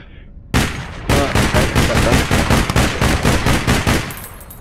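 Rapid automatic gunfire in the online shooter APB Reloaded, a loud sustained burst of evenly spaced shots after a brief opening blast, fading out at the end with no talk over it.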